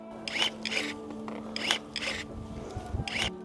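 Pruning shears snip through thin viburnum stems in several quick, crisp cuts with short pauses between them, close up over a low background hum.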